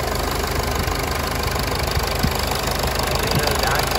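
A 2014 Mercedes-Benz GLK250 BlueTec diesel engine idles up close, a steady, dense drone with faint rhythmic ticking and knocking throughout.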